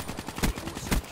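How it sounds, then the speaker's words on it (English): Automatic gunfire in the video game Call of Duty Black Ops 3, a rapid burst of shots with two heavier, louder reports among the quicker cracks. "Oh crap, who just shot at me?"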